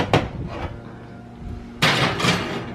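A baking pan of apple blondies slides into a home oven with a few sharp metallic clunks and bangs, a short knock at the start and a louder, rattling clatter near the end as the door shuts.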